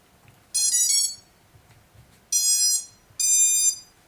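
An FPV quadcopter's ESC, wired to the flight controller and powered through a smoke stopper, gives three loud, close, high-pitched electronic beeps, each lasting about half a second, separated by short pauses, with no talking.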